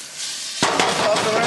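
Shrimp sizzle in a hot pan on rising heat, a steady crackling hiss that starts abruptly and continues with small pops and scrapes.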